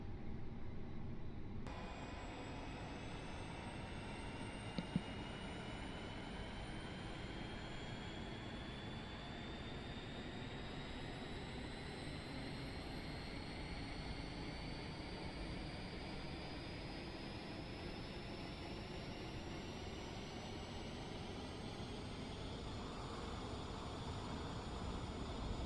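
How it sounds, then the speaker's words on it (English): Airbus A320 auxiliary power unit spooling up inside a flight simulator game, a steady broadband rumble with a slowly rising whine that climbs over about 25 seconds, continuous and even in level throughout. "APU is starting up here. So we will wait for that to spool up."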